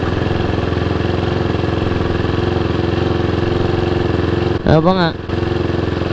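A Husqvarna 401 motorcycle engine idling with an open pipe after its silencer was removed, a loud steady close putter that runs throughout, with a brief spoken exclamation near the end.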